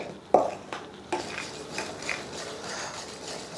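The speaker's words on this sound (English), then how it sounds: "I switched to a whisk" Whisk stirring a vegan chocolate cake mixture in a bowl, with a few sharp clinks at the start followed by soft, quiet, rhythmic scraping and sloshing strokes.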